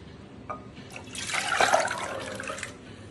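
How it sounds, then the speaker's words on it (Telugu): Soaked chickpeas and their soaking water pour into a pressure cooker with a faint splashing, trickling rush that swells for about a second and then fades. "ఇదే వాటర్తో వేసేసుకుందాం కుక్కర్లో"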